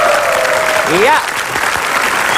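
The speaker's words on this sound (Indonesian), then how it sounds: "mari sekali lagi beri tepuk tangan yang meriah untuk ketiga peserta kita" A studio audience at an Indonesian TV game show applauds three contestants, a broad wash of clapping under a brief voice that rises in pitch.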